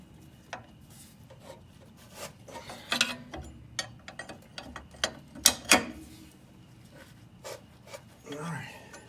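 Ratchet tightening the bolts on a double adjustable strut during installation on a Camaro F-body, heard as a series of short, sharp clicking and rubbing bursts at close range, irregular in rhythm, with a voice briefly underneath.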